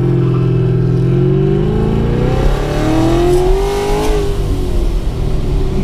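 A car fitted with a ProCharger P-1SC-1 supercharger pulls hard in second gear: a loud, close engine roar climbs steadily in pitch for several seconds, then eases off, with no voices over it.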